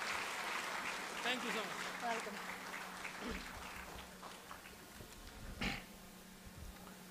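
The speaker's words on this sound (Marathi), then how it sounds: "टाळ्या द्या सरांना" An audience at a motivational talk by entrepreneur and author Sharad Tandale claps to welcome him on stage, a steady crowd applause with scattered voices and murmurs mixed in, sustained throughout before easing off near the end.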